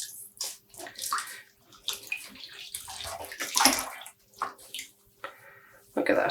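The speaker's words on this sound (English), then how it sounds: "I'm just going to squeeze the water out." Wet dyed yarn being squeezed out by hand, with intermittent splashing, dripping and wringing water sounds in bursts, close and moderately loud, no talking.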